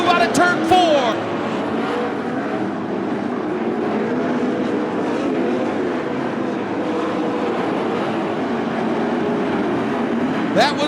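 410 sprint cars roaring around Attica Raceway Park, a loud, steady engine drone filling the whole stretch with the crowd and track noise mixed in and a commentator talking over it.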